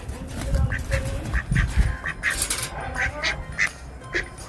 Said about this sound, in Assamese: গিলামৰ হাঁহ এজনী।